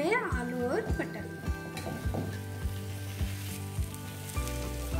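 Fried potatoes and pointed gourd tipped into sizzling masala in a pan, with a run of close clattering knocks and stirring under a steady hiss; music or humming carries through the background.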